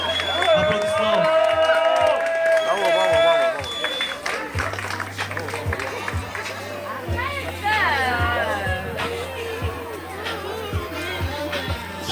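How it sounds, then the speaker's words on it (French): Wedding guests cheer and clap in a loud crowd at the reception, with whoops and chatter over steady clapping that swells and fades across several seconds, voices mixed throughout. "Applaudissements."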